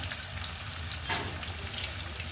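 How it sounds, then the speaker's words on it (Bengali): Five koi fish (climbing perch) fry in a pan with a steady, close hiss of oil that swells briefly partway through. "এই পাঁচটা একটু ভাজবো সেটা কই মাছ এনেছিলাম"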